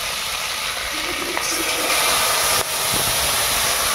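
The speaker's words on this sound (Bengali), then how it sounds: "মাছগুলো দিয়ে দিচ্ছে, বেলে মাছ আর চিংড়ি" Bele fish and shrimp hit hot oil in a pan in a Sundarban village kitchen, giving a steady, loud hiss and sizzle that carries through the whole stretch with a brief dip midway, and no one talks.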